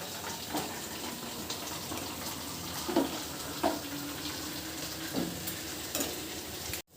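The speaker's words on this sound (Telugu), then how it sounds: "ఇది ఇప్పుడు బాగా బాయిల్ అవ్వాలండి." Sambar for a tiffin-centre style meal, made without toor dal, bubbles and sizzles in a pot with a continuous frothy hiss and occasional louder pops and splutters at close range.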